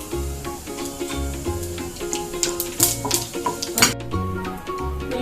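Mustard seeds and cumin in hot oil in a pan, a steady sizzle with scattered crackling pops and a few utensil clinks, close and fairly loud with no talking.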